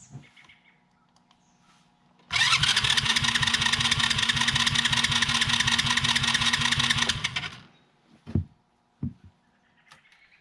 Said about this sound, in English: Cranks, no fire.